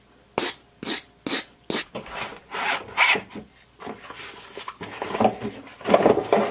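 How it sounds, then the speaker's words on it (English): A file card brushes metal filings out of a file's teeth in a run of short, sharp scraping strokes, evenly spaced at first and then merging into longer, denser rubbing, close and clear with no talk. "So the file card, you just take it and brush your file."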